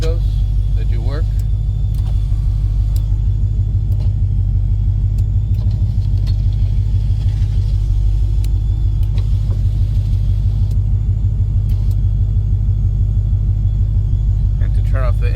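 The 1970 Dodge Charger restomod with a Hellcat engine idles loudly and steadily, a deep continuous rumble from close by, while a person talks over it and a few faint clicks sound from inside the car.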